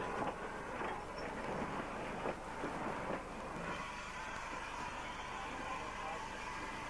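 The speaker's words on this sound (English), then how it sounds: "So here comes the train" A steam train rumbles in as it arrives at a station, a heavy continuous roar that swells briefly, then settles into a steady hum.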